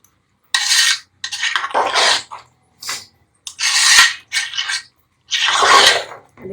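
A spoon scrapes and clanks against a pot while chicken reshmi handi is mixed, in several separate bursts of metallic stirring with short silent gaps between them.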